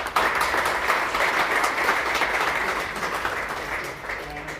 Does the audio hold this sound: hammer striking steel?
no